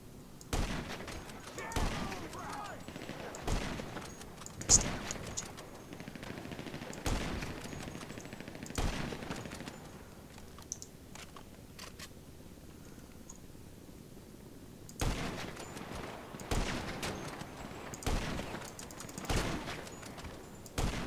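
Unsilenced heavy sniper rifle fired in Grand Theft Auto Online: loud, sharp single shots repeat every second or two, pause for a few seconds midway, then resume at the same steady pace.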